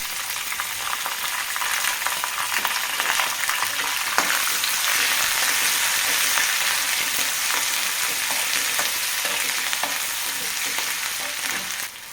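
Green chillies fry in hot oil in a pan while preparing Gujarati batata poha, giving a steady, dense sizzle that carries on at even loudness throughout, with a few faint clicks and no voices.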